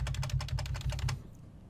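A computer keyboard backspace key is tapped repeatedly in a quick, even rhythm, about ten crisp clicks close up, then the typing stops, leaving a quiet low hum.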